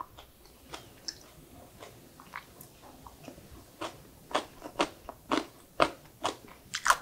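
Someone bites and chews seasoned oiji, Korean pickled cucumber, close up: a series of sharp, crisp crunches that grow louder and more frequent toward the end, with no talking.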